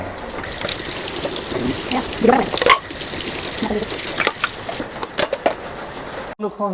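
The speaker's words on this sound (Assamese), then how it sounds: "এতিয়া মোক বাচন ধোৱা পাল" Tap water runs and gushes while dishes are washed, a continuous splashing wash with scattered clinks and knocks, cutting off briefly near the end.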